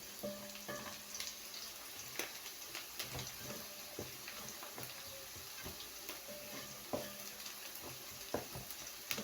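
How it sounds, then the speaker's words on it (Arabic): Onions browning in a pan for an okra dish give a quiet, steady sizzle, broken by light utensil knocks and scrapes, with no talking. "حمرنا البصل خلاص اهي."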